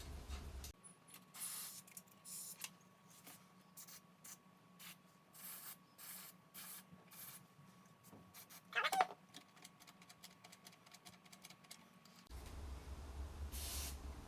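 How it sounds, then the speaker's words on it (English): Contact cleaner sprayed in short repeated bursts onto a CoCo 3 computer's cartridge port, faint close hissing puffs over a steady low hum, with a brief louder rattle midway, no talk. "I'm going to give everything a little bit of contact cleaner, cartridge port and everything else."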